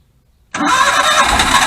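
An old Suzuki Carry mini truck cranks and fires, abruptly catching after a moment of silence and settling into a loud, close, rough idle.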